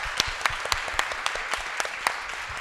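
A room full of listeners bursts into applause at the close of a talk at a professional conference, a dense, steady wash of clapping with a few sharper individual claps standing out near the front.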